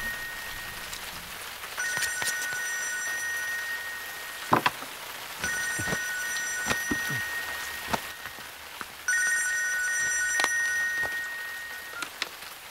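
A telephone ringing in a film scene, three bursts of electronic trilling tone separated by pauses, over a steady rain-like hiss with a few sharp knocks.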